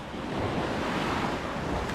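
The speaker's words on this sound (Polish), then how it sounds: "O, tutaj taki strumień wpływa." Steady rushing water flows continuously as a stream runs into the sea on Cyprus, a broad wash of sound mixed with surf and some wind buffeting the microphone, with no voices.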